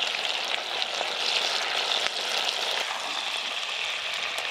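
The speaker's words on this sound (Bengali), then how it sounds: "এই দেখুন মাংসের পিসগুলো খুব সুন্দরভাবে ভাজা হচ্ছে।" Chicken pieces frying in a pan for chicken kosha, a dense, even sizzle close by with soft stirring scrapes, loud and unbroken, with no voices.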